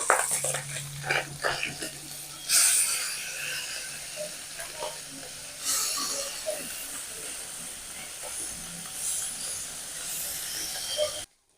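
A steady hiss of small fish frying in hot oil, close by, with occasional clatters and a voice talking over it.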